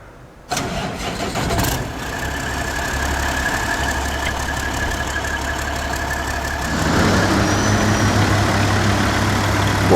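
A truck engine in SnowRunner cranks and catches with a sharp start, then settles into a loud, steady mid-pitched idle that grows slightly heavier toward the end, with no one talking.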